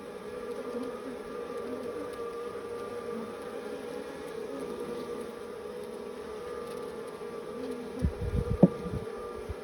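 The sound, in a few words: honey bees buzzing at an open hive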